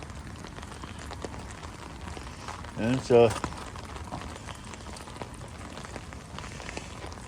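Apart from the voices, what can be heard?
rain falling in Vancouver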